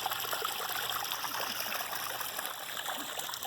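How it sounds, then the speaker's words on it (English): A waterfall in a garden pond splashes and trickles steadily, a continuous close wash of running water with no pauses and no voices. "So there's the waterfall."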